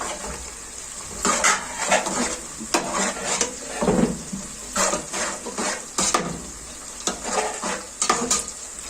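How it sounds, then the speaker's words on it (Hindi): Green masala for chicken pulao fries in a pan with a steady sizzle while a spoon stirs and scrapes against the metal in repeated rhythmic strokes, loud and close, with no talk. "ये देखें, हरा मसाला फ्राई हो रहा है।"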